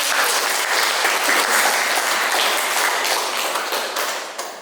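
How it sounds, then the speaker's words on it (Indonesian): A classroom audience claps for a student named Sherly, a dense, steady burst of applause from many hands that fades slightly at the end. "Beri aplaus dulu dong untuk Sherly."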